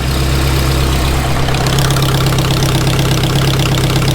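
A loud, steady car engine idle with a rough, puffing rumble from an exhaust leak throughout, close by and continuous with no voices.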